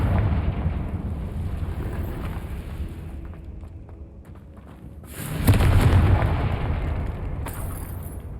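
Explosive Confringo spell bursts in the Hogwarts Legacy video game, a loud booming blast rising around the middle and rumbling for a couple of seconds, with a smaller burst near the end over a steady game background.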